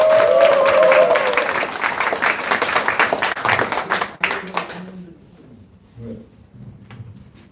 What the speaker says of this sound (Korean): 언론 여러분들께도 큰 박수 부탁드리겠습니다